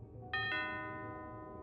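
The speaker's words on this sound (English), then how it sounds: "rang the doorbell at around" A doorbell at a house rings on a Friday evening, two quick bright chime strikes close together that ring out and slowly fade over a quiet background.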